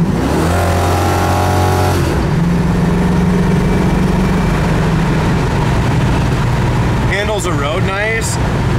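A 1969 Mercury Cougar convertible drives and accelerates, its V8 engine note rising loud and close, with steady road and wind rumble underneath and a brief squeal of tires or brakes near the end.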